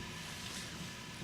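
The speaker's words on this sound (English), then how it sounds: "You're hearing a lot of gas running through the pipeline." Steady broadband rush of natural gas flowing through a power plant pipeline, a continuous hiss and rumble at moderate level with no breaks and no voices.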